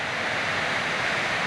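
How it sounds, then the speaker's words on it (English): Heavy rain pouring down outside a bus under conversion, a steady dense broadband roar that stays even and loud throughout with no breaks. "Pouring down outside."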